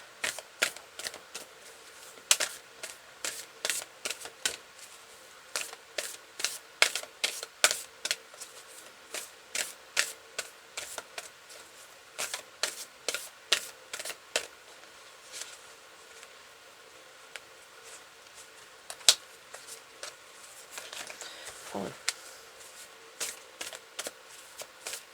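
Tarot cards being shuffled and drawn by hand, a long run of crisp, rapid riffling snaps and flicks close up, coming in irregular bursts with brief pauses, no voices.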